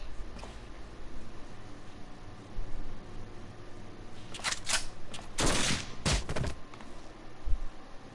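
Gunfire in the Final Fantasy 14 video game, a few sharp shots and a dense burst of rapid fire standing out over a steady low background hum, fairly loud and close.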